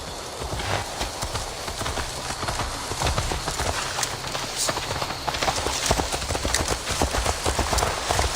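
Horse hooves clip-clop steadily on a road in Assassin's Creed Valhalla, a continuous rhythmic patter of hoofbeats over a dense wash of ambient game noise, close and loud throughout.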